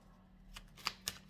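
Brief riffle of tarot cards being shuffled, a soft flutter followed by two sharp snapping clicks, close and quiet over a faint low hum.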